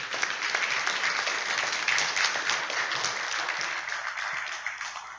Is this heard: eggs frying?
no